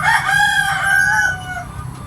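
A tethered chicken clucks and then lets out a drawn-out crow, loud and close, with faint background noise and no talking.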